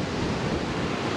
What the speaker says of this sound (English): we just made it to Kia Waka Beach to watch the sunset